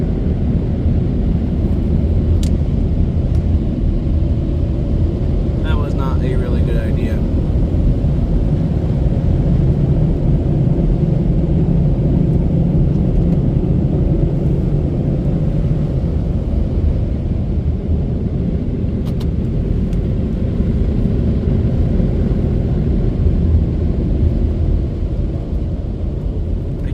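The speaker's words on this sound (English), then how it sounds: "My dryer time ran out, but the dryers are still going." Mark VII dryers roar at the end of a Washworld Profile ST car wash, a loud, steady broadband rush of air with a few faint clicks, and someone speaks briefly over it.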